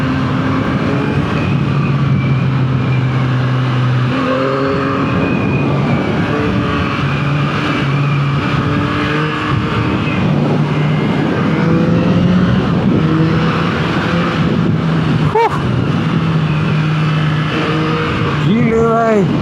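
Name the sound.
2024 Yamaha MT-09 motorcycle engine revving while riding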